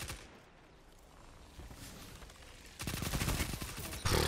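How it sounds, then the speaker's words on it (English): Rapid SMG fire from the Multimach in the Destiny 2 shooter, with quiet game ambience giving way to a loud, dense burst of shots near the end. "I've never seen an SMG, like, kill that fast."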